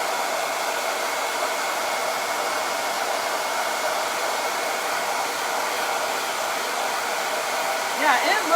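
A hair dryer blows steadily to dry a wet transfer, a constant close whooshing hum lasting throughout, with a faint brief voice near the very end.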